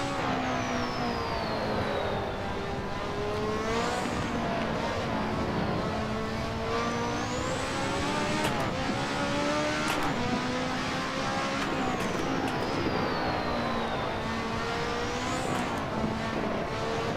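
A turbocharged Lotus 98T race car in the Assetto Corsa racing game screams through its 6-speed gearbox, revs climbing and dropping with repeated upshifts and turbo whine, continuous and fairly loud with no talk.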